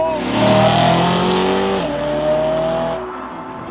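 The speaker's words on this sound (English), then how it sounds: "I have a very special V8 engine, as BMW call it the S65 B40 engine" A BMW E92 M3's S65 B40 V8 revs loud and close, a strong harmonic engine note that climbs then drops sharply before settling into a steady, slightly lower drone that fades near the end.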